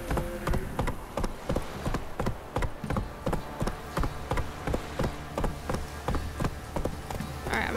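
Horse hooves clip-clop in The Witcher 3 video game, a steady rhythmic run of sharp, evenly spaced footfalls, moderately loud and continuous across the clip.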